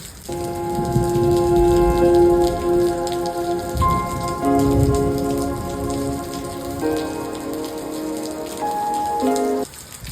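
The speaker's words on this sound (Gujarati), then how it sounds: "મેગી લેવા જાતો જ તો ત્યાં વરસાદ ચાલુ થયો ફૂલ" Heavy rain pours down outdoors, a loud, dense and continuous patter on surfaces lasting the whole stretch, with a steady tonal hum running beneath it.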